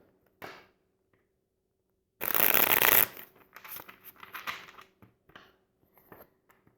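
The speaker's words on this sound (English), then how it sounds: "So let me just shuffle." Tarot cards are shuffled in a dense riffle burst, followed by shorter papery flicks and taps; quiet, close, with no talking.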